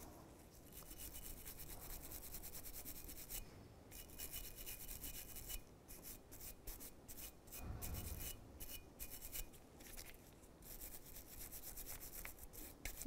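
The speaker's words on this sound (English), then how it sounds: "You can take a wire brush to it." A wire brush scrubs a rear brake caliper bracket on a 2001-2007 Volvo V70, producing repeated rasping strokes in bursts with short pauses, close and steady, with no voices.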